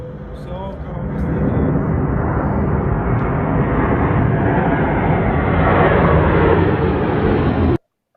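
A fixed-wing airplane cruising at about 10,000 feet gives a loud, steady, broadband engine and wind roar that swells slightly and holds, then cuts off abruptly at the end.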